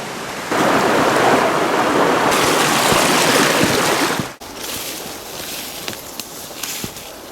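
A mountain creek rushes steadily up close, a loud broadband wash of flowing water that breaks off abruptly partway through and gives way to quieter outdoor ambience with faint scattered clicks.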